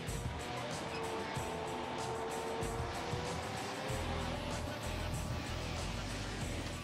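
A Bradley fighting vehicle is driven, its engine giving a continuous loud, rough roar with clanking and grinding track noise throughout, steady and close.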